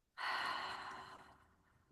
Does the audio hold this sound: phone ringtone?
no